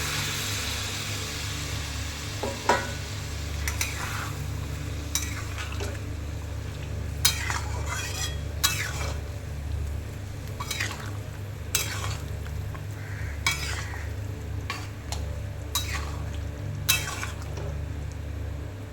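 A spatula scrapes and stirs through a taro and fish curry in a pan at irregular intervals over a steady low sizzle and background hum.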